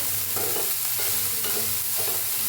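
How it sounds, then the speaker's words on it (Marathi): Moth beans roast in a little oil in a pan, giving a close, steady sizzle with rhythmic scraping stir strokes every half second or so, no voices present. "मटकीला जरा भाजून घेऊया आपण, थोडंसं वतूया तेल, असं भाजून घेऊया"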